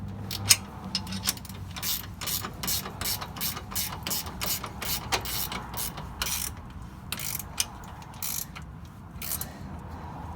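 A ratchet wrench clicks in quick, rhythmic bursts, close up, as lift kit bolts are tightened on a 2015 Kawasaki Teryx LE. Repeated ratcheting strokes run through the whole stretch with no speech.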